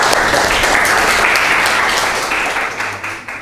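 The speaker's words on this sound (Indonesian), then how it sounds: "Baik, tepuk tangan untuk semuanya." A school class applauds during a soil science lesson, a loud, dense burst of clapping from many students that gradually thins and fades toward the end.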